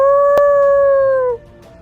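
One long, clear wolf howl holds a steady pitch, then fades with a slight downward slide. It is loud and close, and nothing else is heard.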